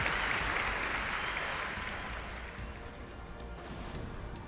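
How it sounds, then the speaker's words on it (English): Applause from a crowd, a dense continuous clatter of clapping that slowly fades, heard at moderate distance with no talking over it. "Let's get a big round of applause for that guy"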